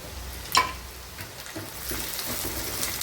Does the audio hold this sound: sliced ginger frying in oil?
yes